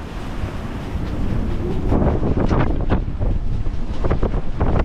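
Heavy wind roars across the microphone over the rush of 5 to 6 metre North Atlantic ocean waves, heard from a sailboat, with surges of crashing water building midway.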